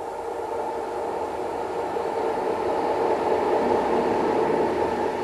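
A train passes through Huutokoski station in Finland without stopping, giving a steady, continuous rumble of rail noise with a broad roar that holds at an even, fairly loud level throughout.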